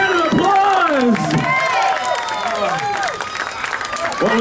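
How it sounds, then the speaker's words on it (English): A crowd at a live show applauds and cheers a surprise win, with loud whoops and shouted voices riding over clapping that stays dense throughout. "Give another round of applause!"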